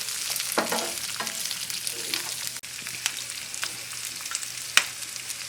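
Onions stirred into a frying spice paste for restaurant-style dry chilli paneer, a continuous close sizzle with irregular spatula scrapes and taps, no talk.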